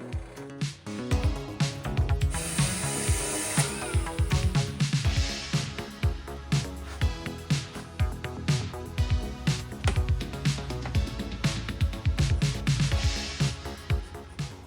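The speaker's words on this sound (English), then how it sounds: "All I'm doing is drilling out an old bolt so the throttle cable can pass through the center" Metal drill bit boring through the centre of an old bolt on a lathe for a mini jet boat build, a dense continuous grinding whir with rhythmic cutting pulses, loud and close.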